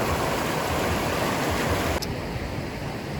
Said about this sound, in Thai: นี่แหละครับที่ไปเบิ่งแม่น้ำมันไหลมาแต่น้ำตก